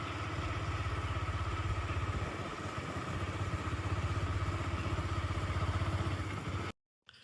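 A motorcycle engine idles steadily and close at a bike parking area by the Taranga Jain temple on a hill in Gujarat, a low, even rumble that cuts off abruptly near the end.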